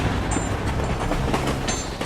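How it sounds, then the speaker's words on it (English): A train rumbles across open countryside in a steady, continuous roar, with clattering wheel noise and a few brief high squeals riding on top. "Trains thunder across the countryside."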